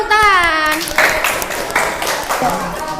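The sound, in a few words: applause, children clapping hands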